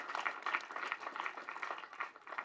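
Applause at a film trailer launch event, a steady patter of many hands clapping at moderate volume, slightly distant, with no talk over it.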